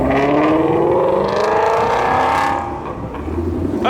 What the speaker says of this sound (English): look at Aventador